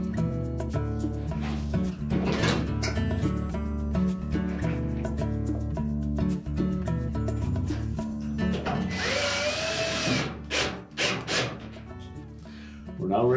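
A power drill drives a retaining screw into a Whirlpool dryer panel, sounding as short buzzing whirs broken by pauses, with a metallic rattle of the panel. A brief higher-pitched burst of spinning comes near the end.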